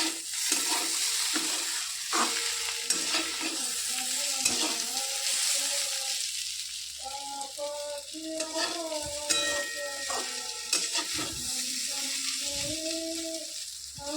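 Food frying in a pan while being stirred, a continuous close sizzle with scraping stir strokes throughout, faint tonal singing or music drifting in the background.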